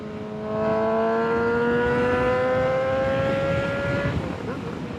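A loud motorcycle cruising at 75 mph, heard from inside a closed helmet: a steady engine drone with rising harmonic tones over constant rushing wind noise.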